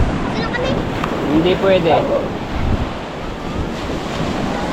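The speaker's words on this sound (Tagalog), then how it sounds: "laki ng alon. Hindi pwede maligo. Hindi pwede, maalon." Big waves breaking along the shore at a river mouth, a steady roaring surf with gusty wind noise against the microphone, while people talk over it.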